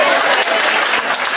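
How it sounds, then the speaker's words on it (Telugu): A crowd of trainees at a teachers' training session breaks into brief, loud, continuous group clapping that lasts just over a second. "చప్పట్లు కొట్టి హెల్త్ బాగుంటుంది."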